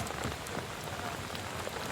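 Steady rain falls on a hard surface, a soft continuous patter of drops at low volume with no voices.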